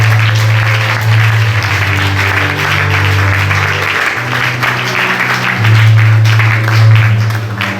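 Church congregation applauding during a Sunday worship service, steady sustained clapping over a low organ or keyboard drone, loud and continuous throughout.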